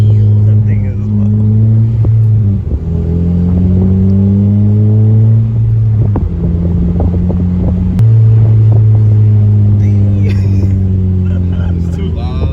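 A Honda Civic Si fitted with a Skunk2 exhaust revs loudly and close by, its engine note rising and falling through several sustained pulls with wind buffeting the microphone.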